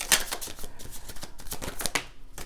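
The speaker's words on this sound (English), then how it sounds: "So I shuffle in this area and the cards fall." Tarot cards are shuffled and riffled on a long table, giving a dense run of crisp papery slaps and flutters, close and fairly loud with no talk.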